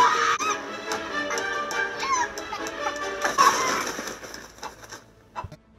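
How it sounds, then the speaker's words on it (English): Chicken clucking in the film The Witches, a series of short clucks and squawks over busy film soundtrack noise, with brief voices mixed in. "She turns to a chicken."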